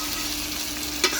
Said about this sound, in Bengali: এখন আমি আলু বেগুন ভাজছি